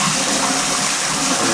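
Water rushing and splashing over tripe in a colander in a kitchen sink, a loud, dense, continuous gush with no pauses.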